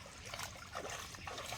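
Water trickling and flowing across a forest hiking trail, a steady, close burbling stream with no talk over it.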